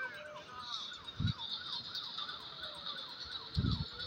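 Ambulance siren in the video game Dude Theft Wars, a steady wailing tone sweeping up and down continuously, with two brief low thumps partway through and no talk over it.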